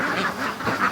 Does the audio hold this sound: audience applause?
no